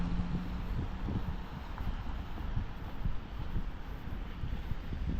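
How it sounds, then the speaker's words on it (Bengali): Strong wind buffets the microphone with a steady low rumble and gusty thumps throughout, loud and close, with no one speaking. "অনেক হাওয়া"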